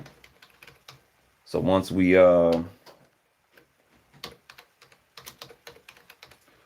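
Scattered keystrokes on a computer keyboard during a post-mixing R&B session, light irregular clicks around a brief stretch of nearby talking.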